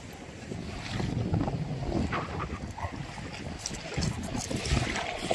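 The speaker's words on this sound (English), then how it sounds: "It's so windy and cold." Strong, cold wind on a beach at Pass-a-Grille, Florida, buffets the microphone in a steady roar, with a churning low rumble that rises and falls throughout.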